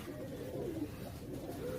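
Pigeons coo softly in a low, continuous murmur, several birds overlapping in warbling phrases at moderate distance with no talk.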